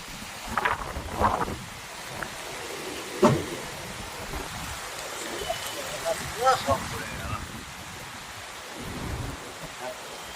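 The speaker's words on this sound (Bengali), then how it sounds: "আর ভীষণ পরিমাণে বৃষ্টি শুরু হয়ে গেছে।" Heavy rain pours during a village storm, a steady hiss with scattered louder bursts and gusts of wind, fairly distant and subdued.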